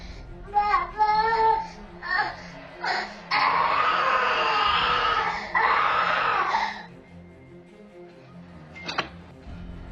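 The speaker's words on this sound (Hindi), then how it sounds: "इसी तरह अचानक जोर से चिल्लाने के बाद ये बच्चा बेड पर गिर गया।" A small child, seen on CCTV at the edge of a bed, lets out loud, sustained screams with shorter cries before and after, then the room settles into quieter background sounds.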